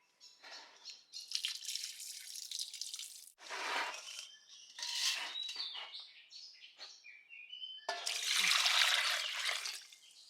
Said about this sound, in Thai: ผมก็เทน้ำแป้งมันออกเลยครับ